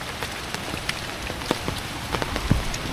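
Light drizzling rain patters steadily on surfaces nearby, with scattered distinct drops and taps over a constant soft hiss, no talk.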